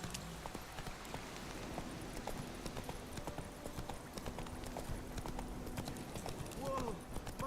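Roach the horse's hooves clip-clop steadily along a road in The Witcher 3: Wild Hunt, a quiet, even walking rhythm under faint ambient game sound, with some voices in the background.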